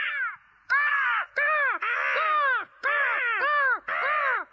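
A cartoon crow caws repeatedly in a Hindi-dubbed Ninja Hathori episode, loud harsh calls in about six bursts separated by short pauses.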